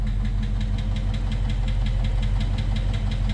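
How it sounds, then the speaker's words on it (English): A Dodge Charger Scat Pack engine idles with a rapid, steady metallic ticking over its low, constant hum, heard close and continuous throughout; the ticking is temporary and goes away. "I experienced a loud ticking noise, but it did go away"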